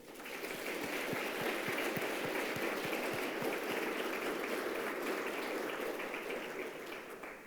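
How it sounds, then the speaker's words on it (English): Sustained warm applause from guests at an embassy reception marking the 52nd anniversary of China-US relations, a dense, even roar of clapping lasting several seconds before easing off at the end. "Let's give them a warm round of applause"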